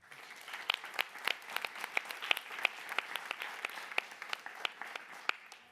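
Audience applause at a European education awards ceremony, greeting a winning lycée; moderate, somewhat sparse clapping with distinct individual claps standing out, continuing steadily throughout at a modest distance.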